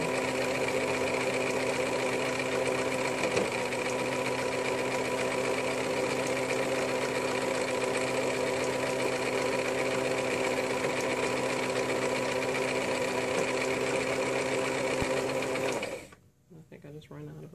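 A sewing machine runs steadily, stitching rows with elastic thread on a buttercream-coloured romper, humming and whirring continuously and close up before cutting off abruptly near the end. A voice speaks over it.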